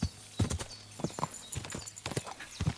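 Horse hooves clip-clop in a steady walking rhythm in Kingdom Come Deliverance 2, the hoofbeats close and distinct over a faint background hum.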